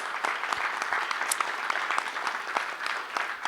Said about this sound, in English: Yes, they need a huge clap.